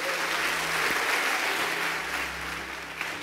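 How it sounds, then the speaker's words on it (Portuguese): Congregation applauding inside a church after a talk, a dense, steady wash of clapping from many hands that holds loud and even throughout. "Vamos dar mais um aplauso ao Senhor"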